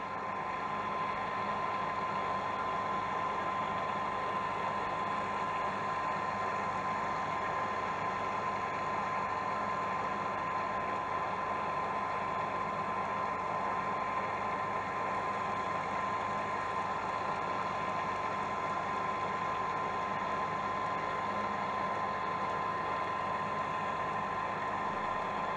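A small boat's engine runs steadily during an anchor holding test, a constant droning hum with a faint tonal whine, unchanging in level for the whole stretch and heard alone without voices.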